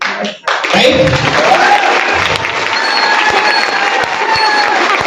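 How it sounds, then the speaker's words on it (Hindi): Clapping and cheering from a seminar audience at a direct-selling business talk, loud, dense and sustained throughout after a brief dip at the start, with crowd voices mixed in. "ताली बजानी है तो कलेजे में दम हो और आपकी बाजुओं में दम हो तो बजाइए"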